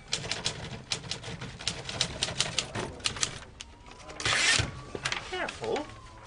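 Keys of an antique typewriter clatter in a quick, uneven run of sharp mechanical strikes, with a carriage ratchet and brief rustling near the end, close and fairly loud.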